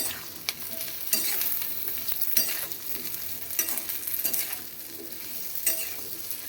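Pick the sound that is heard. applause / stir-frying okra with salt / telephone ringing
stir-frying okra with salt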